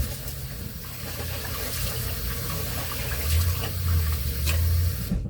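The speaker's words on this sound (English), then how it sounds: "I'm washing the rice" Rice being washed by hand under a running kitchen tap, a continuous rush of water with some sloshing and splashing, fairly close, with no speech.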